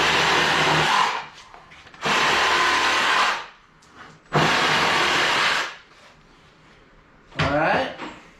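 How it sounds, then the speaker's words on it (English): A reciprocating saw fitted with a fine-tooth blade cuts through wooden dowels on a sawhorse build, sounding in three loud, sustained buzzing bursts of one to two seconds each, separated by brief quiet gaps with small handling knocks. "take a fine-tooth blade on your sawzall, cut your dowels off"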